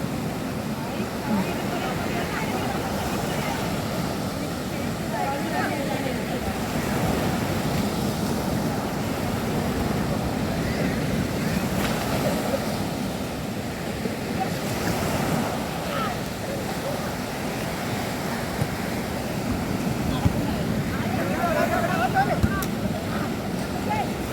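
Steady ocean surf roars continuously at Shankhumukham Beach, Thiruvananthapuram, with wind buffeting the microphone, a dense low wash of waves that never pauses.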